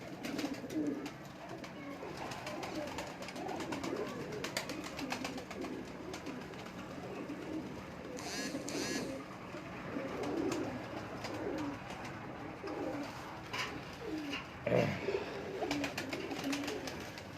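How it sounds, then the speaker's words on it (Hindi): A Mem Sahab pigeon coos softly in repeated low calls, faint against a busy background hum, with a brief louder sound near the end. "ये दोस्तों मेम साहब कबूतर है"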